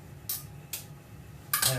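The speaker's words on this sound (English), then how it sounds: "in goes that egg" Three quick clinks of a utensil against a mixing bowl as an egg goes into cupcake batter, two evenly spaced taps followed by a slightly longer scrape-like clatter.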